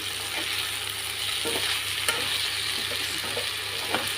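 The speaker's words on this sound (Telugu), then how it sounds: "ఇట్లా బబుల్స్ లాగా వస్తుంది చూడండి కర్రీ ఫ్రై అయిపోయినట్టేనండి" Okra curry fries and bubbles in a pan with a steady close sizzle, broken by a few faint scrapes or stirring clicks.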